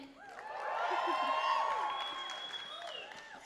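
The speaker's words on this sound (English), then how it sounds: "You need to learn to just cheer loud on the first time" A pageant audience cheers and applauds, a mass of clapping and whoops that swells to a peak and then fades.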